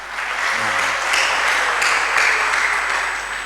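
Sustained applause from an audience at a village development talk, dense and fairly loud, with a faint voice briefly heard near the start.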